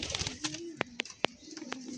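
Domestic pigeons at a home loft coo in soft, low rolling phrases close by, broken by a few sharp clicks and wing flutters, with no talking.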